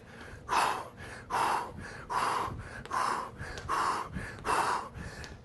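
Heavy, rhythmic breathing during an at-home cardio circuit workout, with about six loud, forceful breaths in steady succession, close to the microphone.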